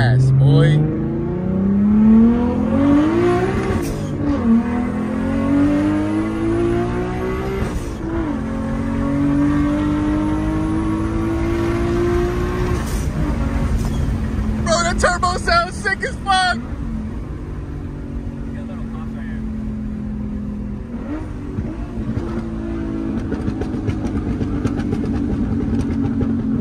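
A stage 3 Nissan GT-R sports car revs and accelerates hard, its engine note climbing loud and close through several rising pulls with brief shifts between them, while people talk excitedly over it.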